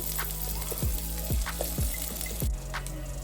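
Onions frying without salt in a pan for Bangalore-style tomato rice, a steady loud sizzle with a few soft stirring knocks, close and continuous with no voice over it.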